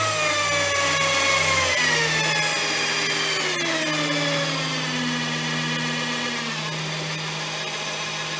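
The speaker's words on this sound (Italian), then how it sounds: "i motori a spazzole quando sono bassi di giri non tirano niente" A brushed electric motor driven by a single-phase 220V inverter whines loudly, then winds down steadily to a low, slow hum. Its tone glides downward over several seconds, with no one talking.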